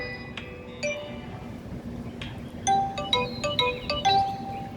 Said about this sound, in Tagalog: Nagtutunog-tunog na yung aking alarm.